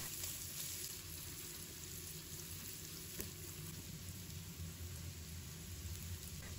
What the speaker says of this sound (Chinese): 再把蒜末小米椒放入锅中，然后继续给它翻炒均匀